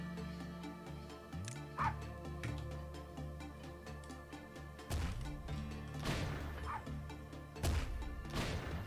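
A dog-like monster in the video game Lobotomy Corporation barks and yips in several bursts, mixed with thwacks and crashes of combat over game music.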